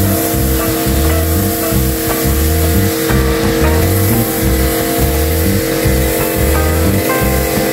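A Miniko high pressure washer drives a foam lance spraying thick foam onto a wall, producing a loud, steady motor drone with a pulsing low rumble throughout.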